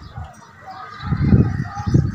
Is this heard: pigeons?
yes